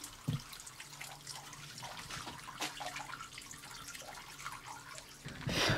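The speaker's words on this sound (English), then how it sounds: "Imagine, folks, how long water has been running inside of this spring house." Water runs and drips steadily inside an old stone spring house along a parkway, a soft continuous trickle with small splashes, fairly quiet and close, with no talking over it.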